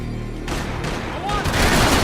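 Gunshots in Max Payne 3, a series of sharp, heavy shots and booms following each other in quick succession, close and loud, with a voice talking over part of the fire.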